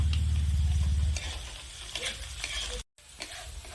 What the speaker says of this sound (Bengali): আদা ও পেঁয়াজের সাথে রসুন মিশিয়ে নেড়ে চেড়ে আরো 2 মিনিটের মতো ভেজে নেব